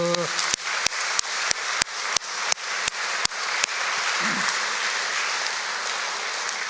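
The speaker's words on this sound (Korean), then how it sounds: "다시 한번 박수" Inside a church during a revival service, a congregation gives sharp, rhythmic unison claps, roughly a dozen evenly spaced beats, followed by a softer wash of scattered applause.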